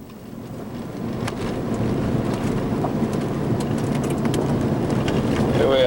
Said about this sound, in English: driving in the rain again on the dirt road going out of Shoe Cove